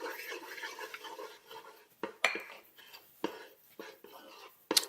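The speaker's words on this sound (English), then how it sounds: "And I'm just scraping this again" A utensil scraping the metal insert of an Instant Pot while Tuscan chicken cooks: a few sharp scrapes and clicks, close and fairly quiet, spaced irregularly among softer stirring sounds.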